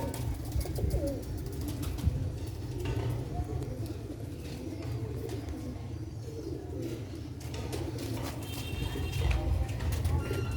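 Pigeons coo steadily and close by in a loft housing young birds, with scattered chirps from other birds layered over a constant low background hum.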